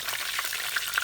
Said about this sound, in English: now I'm going to start frying the eggplant, the aubergine